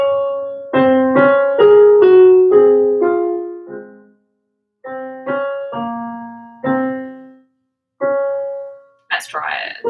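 Sopranos and altos of a choir singing together in rehearsal, sustained harmonized notes in several short phrases with brief pauses, close and fairly loud, ending in a burst of noisier sound.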